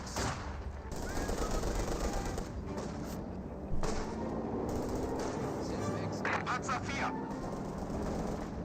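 Scattered rifle and machine-gun fire from a Company of Heroes 2 skirmish, with pioneer soldiers trading shots from heavy cover, crackles steadily at a distance beneath a caster's ongoing commentary.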